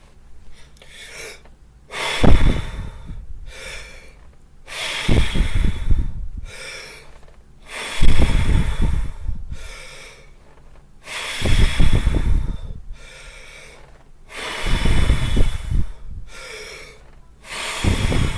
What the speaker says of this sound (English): Breathe in for 15 to 30 seconds. Exhale, and then repeat the process.